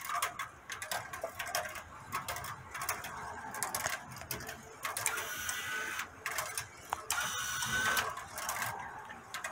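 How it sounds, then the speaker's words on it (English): A heavy one-inch steel ball rolling along the curved metal track of a Meccano Congreve clock, a continuous close clattering rattle and whir that swells and eases as it rounds the corners. "There are no bolts in the path of the ball, and it runs smoothly around the corners."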